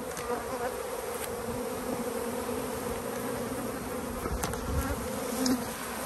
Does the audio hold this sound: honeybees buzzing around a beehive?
yes